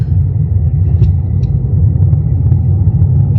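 Steady low rumble of a car cruising along the road on a long road trip toward Colorado, loud and constant from inside the cabin with no talking.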